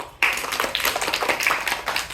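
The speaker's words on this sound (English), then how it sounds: "Very good. Clapping." Second-grade children clap together in a school classroom, a dense burst of many small hands starting abruptly and continuing steadily, close and lively with no talk.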